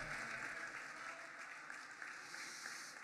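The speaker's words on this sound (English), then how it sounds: "Let's give Steve Vassor a round of applause." Steady crowd applause, dense clapping throughout, fairly distant and even in level.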